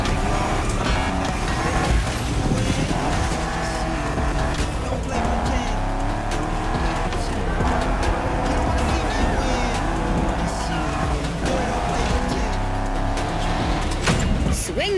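A Shelby car drifting in the racing game The Crew Motorfest, its engine roaring steadily with shifting revs and tire squeal throughout, loud and continuous with game music and occasional voice underneath.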